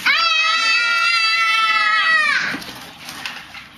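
Children screaming at a NAO robot: a loud, sustained high-pitched shriek lasting about two seconds, then fading into quieter chatter and background noise.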